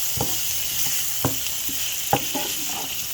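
Butternut squash sizzles in a hot pan over a steady hiss, with a few sharp taps and scrapes of a utensil spaced through the moment, close by and without talk.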